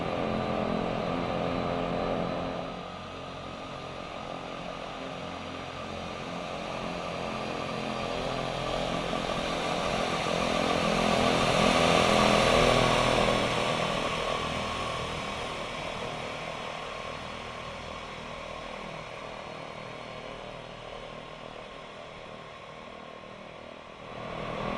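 A propeller aircraft engine drones steadily while taxiing in the X-Plane 10 flight simulator, swelling gradually louder toward the middle and then easing back, with no voices.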